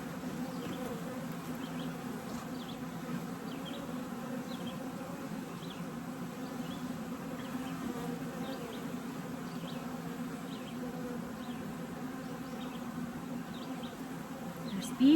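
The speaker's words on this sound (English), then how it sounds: "There's bees fanning on this board" A steady, dense buzz of many honey bees fanning close by, continuous and even throughout with no voices.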